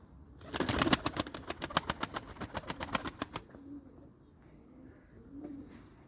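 Pigeons near a loft, with a rapid run of loud flapping wing beats up close, then soft low cooing in the quieter stretch that follows.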